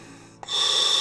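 A single inhalation through a freshly serviced Aqua Lung Spiro safe second scuba regulator connected to a tank: a brief click followed by a steady, close, hissing airflow.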